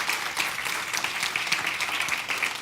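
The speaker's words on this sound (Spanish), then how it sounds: "Denle ese aplauso fuerte a Cristo porque Él es bueno" A church congregation applauds steadily, a continuous wash of many hands clapping at moderate distance with no talk over it.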